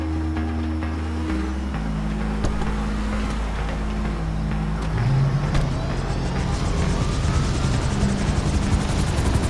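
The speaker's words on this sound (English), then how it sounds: "Flying an agency helicopter" Steady rotor and engine drone of an agency helicopter in GTA Online, loud and close, with a low hum that shifts pitch and intensifies midway.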